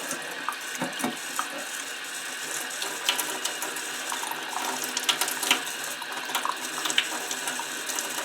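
Warm tap water runs steadily into a sink while a black powder gun is cleaned, a continuous splashing rush with occasional metallic clicks and knocks near at hand.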